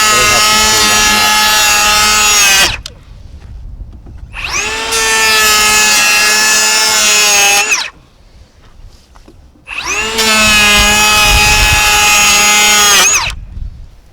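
A RIDGID Octane 18V cordless planer (R8481B) shaves wood in three loud, sustained passes of high-pitched whining motor and cutting roar, each about three seconds long, separated by brief quieter gaps.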